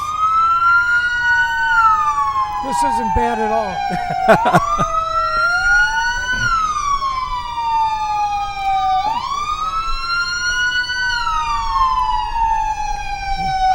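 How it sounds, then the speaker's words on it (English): Several emergency vehicle sirens in a July 4th parade wail loudly and continuously, their pitches sweeping up and down and overlapping, with brief horn blasts and a voice speaking underneath. "the sirens go on for 10-15 minutes"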